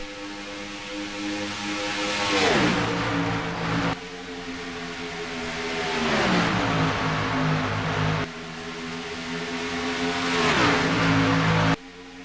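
Race cars in a racing video game roar past on the Auto Club oval at night, each engine rising in a loud howl and then dropping in pitch as it passes, repeating in waves with no talk.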